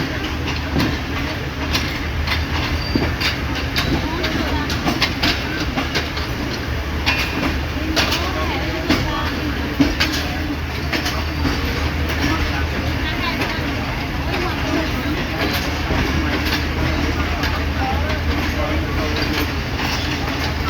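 The Tezgam Express passenger train runs steadily on the rails between Karachi and Lahore, its loud continuous rumble broken by clicking wheel joints, with voices talking inside the carriage.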